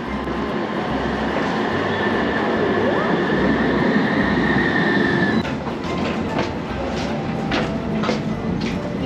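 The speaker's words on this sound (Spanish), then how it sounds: "Aquí llega nuestro tranvía." A tram pulling into a stop in Zaragoza, a loud steady rumble with a high squeal of wheels on rail, then a run of clicking and clattering as it slows, with no talk.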